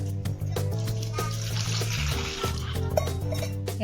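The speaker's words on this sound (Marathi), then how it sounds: "हे एवढे गवारच्या शेंगा घेतलेले आता याच्यात पाणी टाकणार आहे थोडं।" Water poured over a batch of cluster beans (gavar) for washing gives a steady, close splashing rush that eases off after a couple of seconds, with background music underneath.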